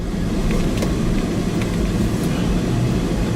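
A truck engine heard from inside the cab while driving: a steady, loud, low rumble and road drone that carries on unbroken, with no talking.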